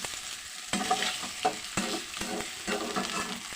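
Spinach snack pieces stirred in hot oil and spices in a pan: a soft, continuous sizzle broken by several scraping, clattering stirs at an uneven rhythm, close up and fairly quiet.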